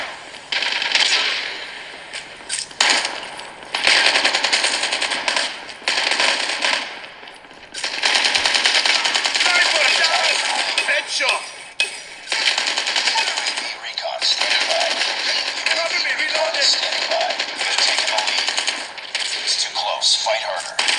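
Rapid automatic gunfire in the mobile shooter game Call of Duty Mobile, played on a Xiaomi Redmi Note 8 Pro, crackles in dense bursts with short gaps throughout, while a voice talks over the shooting.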